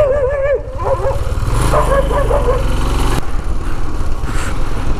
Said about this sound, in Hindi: अभी तक मुझे समझ में नहीं आया कुत्ते पड़ते क्यों है भाई इस बाइक के पीछे।